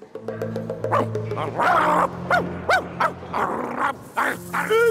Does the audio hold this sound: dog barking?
yes